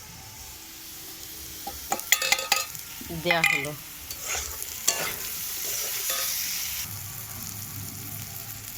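Potatoes fry in a pan with salt, turmeric, Kashmiri chilli, green chilli, ginger and cumin, a soft sizzle under sharp scraping stirs and clanks of a utensil. A quiet voice speaks briefly near the start.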